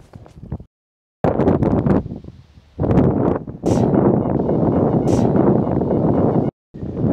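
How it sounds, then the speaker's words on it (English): Strong wind buffets the microphone in an open farm field during metal detecting, a loud continuous roar with gusty surges and a couple of brief drops to near silence. "the wind is so strong"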